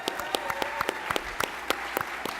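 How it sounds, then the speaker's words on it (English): A crowd applauds at a packed business competition event, with sparse, distinct hand claps standing out in an irregular rhythm over a softer wash of clapping. "Let's give that a round of applause."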